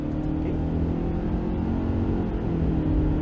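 2023 Subaru Ascent Onyx SUV with a CVT transmission accelerating on a test drive, a steady low engine hum rising slightly from inside the cabin, moderately quiet and continuous.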